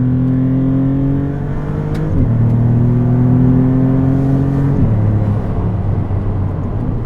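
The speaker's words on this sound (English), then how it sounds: "the boost noises are so much fun" A turbocharged car engine drones steadily with rising boost tones as it accelerates, shifting pitch twice as it goes through gears, close and loud.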